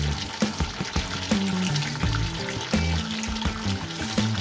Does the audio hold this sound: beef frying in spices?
yes